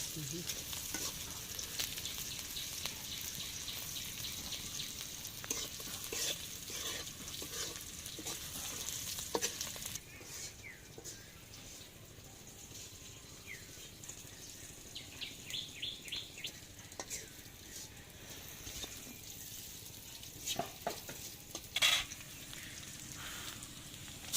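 Green chillies roast and crackle beside a cooking stove with a steady broadband sizzle and sharper pops, continuing for the whole stretch, with faint bird calls in the background.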